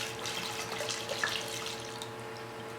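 Liquid steadily gushing and trickling into a Branson 3515H tractor tire as it is filled with fluid, a continuous close, soft watery flow with faint drips and no talking.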